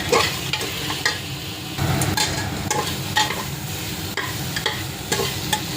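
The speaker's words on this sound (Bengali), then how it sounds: "চিকেনের সাথে মশলা দিয়ে একসাথে কষিয়ে নিচ্ছি।" Chicken fries with spices in a pan, a steady close sizzle punctuated by regular scraping knocks of a spoon stirring against the pan.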